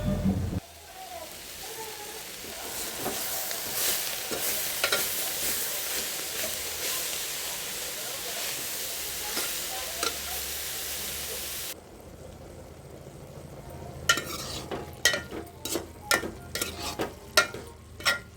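Palak curry cooking in a pot that is covered between stirs, a low steady bubbling sizzle with repeated spoon clinks and scrapes, growing into sharper knocks and stirring strokes toward the end.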